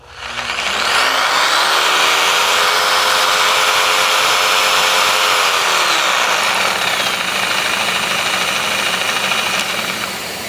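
Jigsaw cutting a live-edge slab with aggressive pendulum action, a loud, steady buzzing motor whine with a harsh rasping blade that runs continuously for about ten seconds with no talk.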